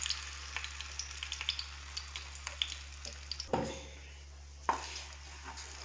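Mango puree stirred in hot ghee for mango halwa: a soft, steady sizzle runs throughout with scattered scraping clicks and a couple of louder stirring bursts near the middle and end, with no one talking.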